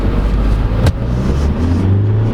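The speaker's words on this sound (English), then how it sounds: "So driving the 2022 Mazda BT-50." A 2022 Mazda BT-50 3.0L pickup truck with automatic transmission drives along, its engine and road noise forming a loud, steady low rumble throughout, with one brief sharp knock partway through.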